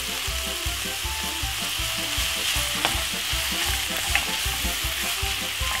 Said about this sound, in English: we're gonna brown off the meat